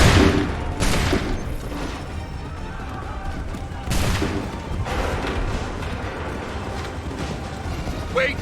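Musket volley in Assassin's Creed 3 Remaster, loud crackling bursts of gunfire at the start and again around the four-second mark, mixed with mechanical clatter and battlefield noise in between.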